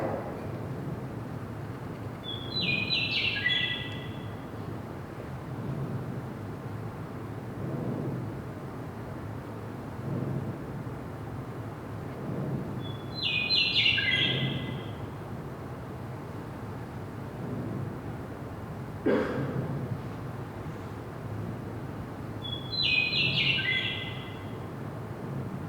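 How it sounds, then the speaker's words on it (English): A meadowlark sings in an outdoor recording, three short bright fluting phrases spaced roughly ten seconds apart over a soft background hiss. "So this is a meadowlark."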